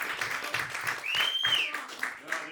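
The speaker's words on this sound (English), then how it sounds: "Start clapping right now for Tom Barnard." Comedy roast audience in a New York club clapping and cheering, a lively burst of applause with a whistle rising over it, voices mixed in throughout.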